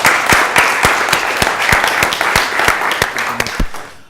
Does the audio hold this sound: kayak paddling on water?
no